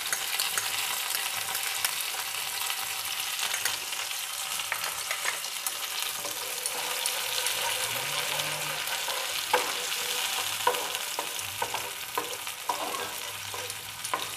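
Chicken 65 with tomato ketchup frying and being stirred in a hot pan, a steady bright sizzle with repeated scraping stirs for a long stretch, close and with no talking.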